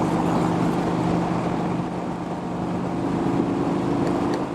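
Vincent Rapide motorcycle engine pulling hard to overtake, a loud continuous droning roar from the rider's position with steady wind rush, no voices.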